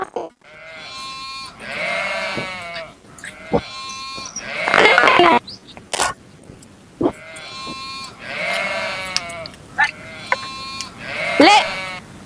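Sheep and goats bleat close by in repeated loud, wavering calls, several animals overlapping in bursts with short gaps between them.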